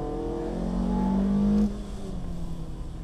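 A Ferrari race car on a track revs close by with a rising engine tone that climbs for about a second and a half, then cuts off abruptly, leaving a fainter lower engine drone.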